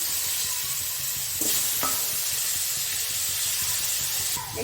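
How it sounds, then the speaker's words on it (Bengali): Potatoes frying in ghee in a pan give a steady, close sizzle and hiss with faint stirring scrapes, no voices over it. "আমার আলুও ভাজা হয়ে গেছে ঘিয়ে, ভালো ঘিয়ে"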